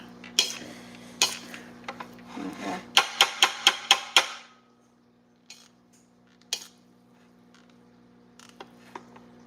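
Butter being mixed into rice in a cooking pot, with a burst of sharp metallic scrapes and clinks from a utensil against the pot, then a few scattered softer taps over a quiet background hum.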